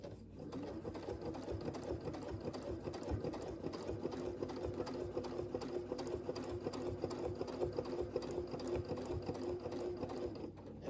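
Sewing machine stitching a churn dash mini quilt, a continuous close whirring hum with rapid needle chatter that runs steadily for about eleven seconds, with no talking over it.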